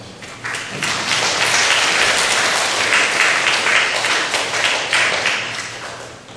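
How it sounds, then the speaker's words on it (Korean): A congregation in a church gives a warm round of applause, dense clapping swelling quickly, holding steady for several seconds, then tapering off. "박수로 한번 해주세요"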